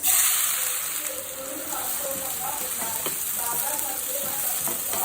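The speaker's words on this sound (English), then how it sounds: "fry until the onion is transparent" Chopped onions and cumin seeds fry in ghee and oil in a pan, a steady crackling sizzle with a few stirring clicks, close and constant, with a faint voice in the background.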